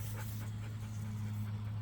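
A dog pants steadily and close by, a continuous breathy rhythm over a low steady hum, with a faint whimper mixed in now and then.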